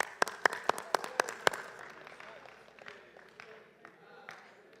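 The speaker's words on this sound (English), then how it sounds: "Give her a round of applause." A chapel audience applauds: a burst of sharp, close, loud claps at the start, then a softer, scattered patter of clapping that slowly fades.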